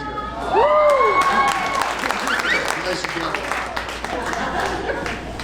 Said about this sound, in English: Dave Newman, ladies and gentlemen, round of applause.